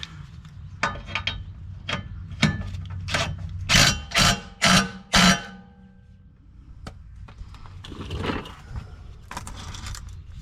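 A 17mm socket wrench fastening a bolt on an aluminum evap can skid plate of a 2008 Jeep JKU, quick ratcheting clicks followed by several louder metallic clanks, close, then softer rattling.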